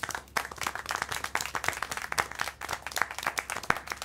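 Crowd applause in the video game Syberia: The World Before, a dense, continuous patter of many hands clapping at steady volume for several seconds, with no talk over it.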